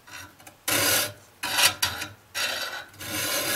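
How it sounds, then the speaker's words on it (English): A hand file rasps across the teeth of a pole saw in several separate strokes, each a short dry scraping burst with brief pauses between, close and fairly quiet. "But I try to use the whole file"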